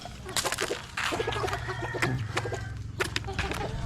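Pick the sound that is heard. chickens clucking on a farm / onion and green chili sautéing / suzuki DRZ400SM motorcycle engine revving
chickens clucking on a farm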